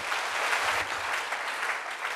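Church congregation clapping during a sermon, a dense, sustained round of applause filling the room at steady loudness.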